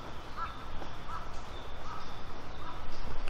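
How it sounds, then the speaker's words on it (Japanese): Several wild bird calls repeat at a steady pace in a forest park, somewhat distant, with woodpecker drumming, over a constant background hiss of outdoor ambience. "もう野鳥の声がいっぱいしていて"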